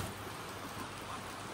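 Steady rain falls at Sahastradhara, a waterfall spot where nearby running water can also be heard, making a continuous even hiss that is fairly faint and carries no voices.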